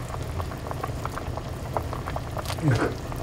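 A pot of dodari (flounder) soup with mugwort bubbling at a steady boil, close and continuous, with people talking over it in a Tongyeong kitchen.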